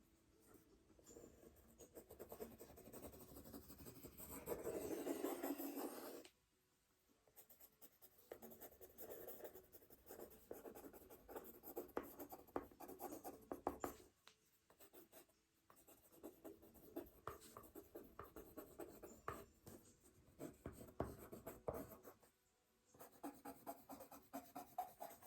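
Pencil or crayon drawing on paper, a soft continuous scratching and rubbing of strokes with brief pauses, faint and close, with no talking.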